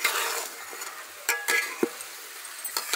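Rice and mixed vegetables roast with spices in a pan for dal khichdi, giving soft sizzling with several sharp spoon scrapes and clinks against the metal between quieter moments.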